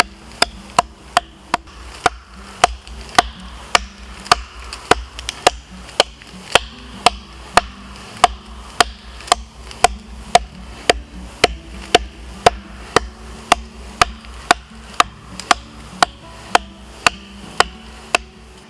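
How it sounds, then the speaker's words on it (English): A small divot is carved into wood for a bushcraft chair rail at a backyard camp. Sharp, close chopping strikes fall at a steady, even pace, roughly two per second, about thirty blows in all with no talk. "I'm just going to carve out just a little divot here."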